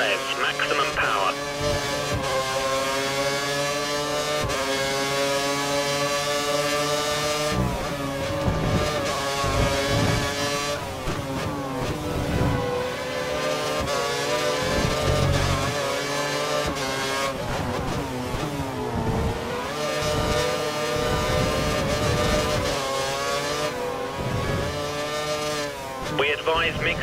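Formula One race cars from the F1 2013 video game scream at full revs through a Hungary race, engine tones rising and falling steadily for the whole stretch, loud and continuous with occasional gear changes.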